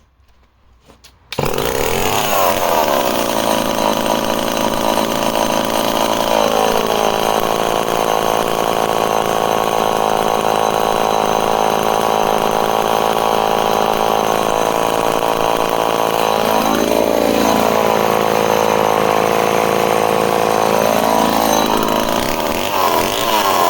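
A project chainsaw from a batch of used saws fires up after a second of quiet and settles into a loud, steady, close idle, with a couple of brief dips in engine note along the way.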